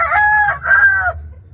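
A rooster on a farm with fighting cocks and hens crows loud and close, two long drawn-out calls back to back, with a low rumble of background noise underneath.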